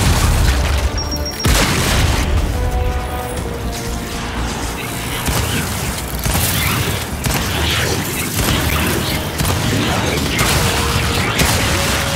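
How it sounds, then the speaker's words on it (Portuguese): Grenade blast in the Gears 5 shooter on insane difficulty, with heavy booming explosions, crashing debris and gunfire that continue loud and dense throughout, under occasional voices. "Lançando granada!"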